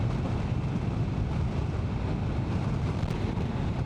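Steady wind roars and buffets the microphone while riding a BMW motorbike through Glencoe in Scotland, a constant low rumble with no break and no voices.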